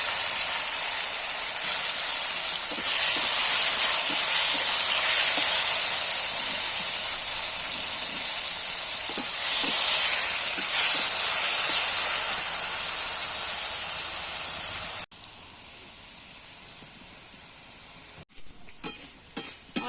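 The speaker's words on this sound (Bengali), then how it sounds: "তেল গরম হয়ে গেছে এবার আমি আলুগুলো ভেজে নেব" Potatoes fry in hot oil with a loud, steady hiss and sizzle for about fifteen seconds. Then it drops much quieter, followed by a few clattering knocks.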